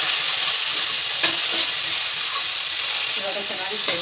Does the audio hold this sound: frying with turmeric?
yes